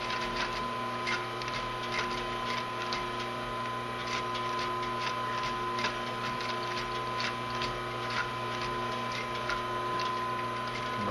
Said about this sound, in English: you're sewing so close to the edge